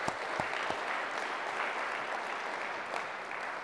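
Steady, sustained applause from a large audience at a formal speech event in Philadelphia fills the whole stretch at an even level, with no talk over it.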